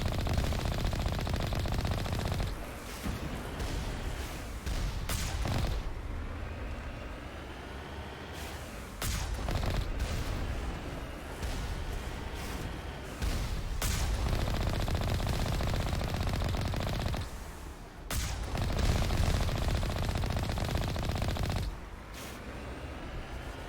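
Enemy gunfire in Mass Effect 1 rattles in long sustained automatic bursts, loud and dense, broken by a few brief pauses, with no talking over it.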